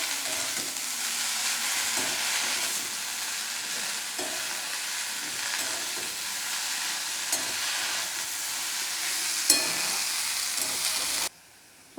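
Bottle gourd leaves with turmeric and green chilies stirred in a pan: steady close sizzling and hiss with repeated soft scraping strokes for about eleven seconds, then a sudden cut to near silence.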